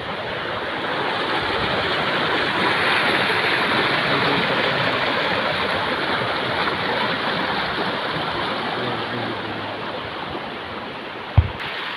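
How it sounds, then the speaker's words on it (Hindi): Water from mountain springs rushing through a forest stream on the Narmada parikrama route near Amarkantak: a loud, steady broadband roar of flowing water throughout, with one brief thump near the end and no talk. "यहाँ से पहाड़ों से भी पानी उठ रहा है।"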